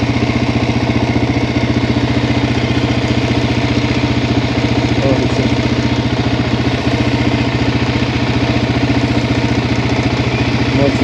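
A Suzuki LTZ 400 sport quad runs at high speed on the A3 autobahn, a loud, constant buzzing engine drone with steady vibration and wind, unbroken for the whole stretch.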